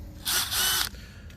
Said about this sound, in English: So I got my drill